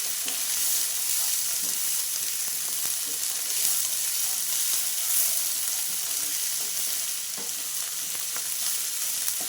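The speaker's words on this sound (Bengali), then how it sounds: "পেঁয়াজের সাথে একসাথেই ভাজা হয়ে যাবে এগুলো" Onion, garlic and green chili fry together in a pan with a continuous close sizzle and intermittent stirring clicks throughout.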